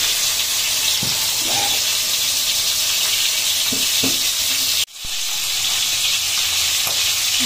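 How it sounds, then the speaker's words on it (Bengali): Water poured onto spice paste frying in a pan for a Bengali fish and potato curry gives a loud, steady hiss and sizzle, close by, with a few soft stirring knocks and a brief sharp break midway. "মশলা কষানো রেডি, আর আমি একটু জল দিয়ে দিই।"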